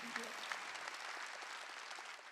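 A congregation at a church worship service claps along, a fairly faint and steady patter of many hands with a couple of sharper claps near the start and a voice over the top.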